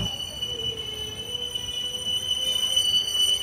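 A night train to Puri pulls into Balasore station, its wheels squealing in a sustained high metallic whine over a continuous rumble of railway cars, with no voices.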